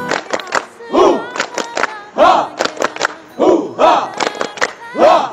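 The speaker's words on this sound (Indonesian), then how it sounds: "Tepuk semangat!" A crowd claps a rhythmic spirit clap in sharp grouped bursts, trading off with loud chanted shouts in a hall during a company anniversary celebration for Mandiri Tunas Finance and Isuzu Dwijaya.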